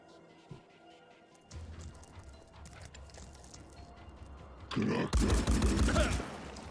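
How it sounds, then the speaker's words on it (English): Pistol shots ring out in the Phoenix Point video game, a couple of loud sharp bursts near the end after a stretch of quieter mechanical clicks and ambient game noise. "And we are wasting this pistol ammo."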